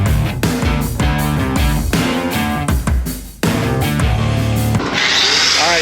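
A power tool cuts through a titanium exhaust tube being trimmed for V-band welding on a 12V Cummins-swapped 1970 Ford F250, giving a loud, close, steady grinding rasp with brief pauses and a high hiss near the end.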